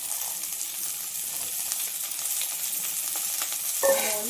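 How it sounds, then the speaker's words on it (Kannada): Field beans (avarekalu) fry with onion in about a tablespoon of oil, giving a steady bright sizzling hiss close by, with a short metallic clink just before the end. "ಸ್ವಲ್ಪ ಈರುಳ್ಳಿ ಹಾಕಿ ಒಂದು ಫ್ರೈ ಮಾಡ್ಕೊಳ್ಳಿ. ಅವರೆಕಾಳು ಹಾಕ್ತಿದ್ದೀನಿ"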